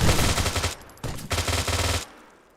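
Soldiers fire weapons in the video game Arma 3 (OPTRE mod), producing close, loud bursts of rapid automatic gunfire that stop briefly, resume, then cut off with a fading echo.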